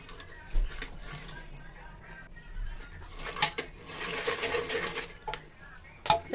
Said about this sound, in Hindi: अब सांभर में आप देख सकते हैं कि सब्जियां जो हैं इसमें इस तरीके से चला देंगे मथानी